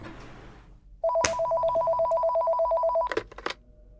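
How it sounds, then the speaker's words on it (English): A telephone rings inside the horror game Five Nights at Ovidio's: Golden Days, a steady electronic double-tone trill that repeats loudly for about two seconds, after which a few clicks and knocks follow as the line is picked up. "Got a phone call."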